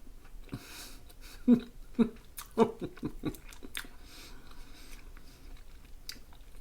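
Someone biting into a double chocolate espresso cappuccino glazed cookie, a few distinct close crunchy bites followed by soft moist chewing, quiet and intimate with light breathing between.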